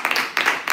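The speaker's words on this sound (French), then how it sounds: "Mais on peut applaudir pour maman." A church congregation applauding at a Sunday service, a short burst of clapping from many hands in a reverberant hall, fairly loud and heard on its own.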